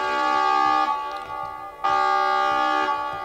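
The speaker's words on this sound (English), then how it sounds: "That's the doorbell." A harsh, buzzy electronic doorbell sounds twice in long, loud tones, with a brief pause between them.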